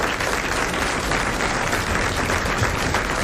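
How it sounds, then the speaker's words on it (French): A French television studio audience in 1980 applauds, a dense, steady, close wash of clapping that fills the whole stretch without talk. "elle vous remercie et le public l'applaudit."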